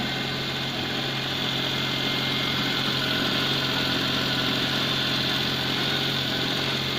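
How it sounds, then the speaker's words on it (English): Daewoo Matiz 796cc car engine idling slightly high with its exhaust system fitted, a steady, unbroken hum with a constant low tone and faint vibration, close and alone. "It's a little high on the idle"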